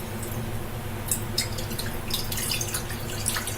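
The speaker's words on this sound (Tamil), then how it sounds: "இதை வந்து நம்ம இந்த பேன்ல ஊத்திக்கலாம்." About a cup of water is poured into a cooking pan for a semolina sweet. A soft, steady splashing goes on under a low background hum, with brief brighter trickles near the end.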